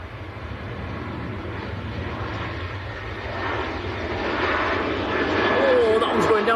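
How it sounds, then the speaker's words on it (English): A Ryanair jet takes off at Manchester Airport, a broad steady engine roar that swells and grows louder toward the end, with faint voices under it. "Ryanair charging out"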